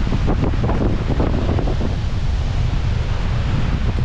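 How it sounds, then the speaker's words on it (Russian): Long rolling sea waves break at Gelendzhik under hurricane-force wind, a loud continuous roar of surf mixed with heavy wind buffeting on the microphone. "Какие красивые затяжные волны."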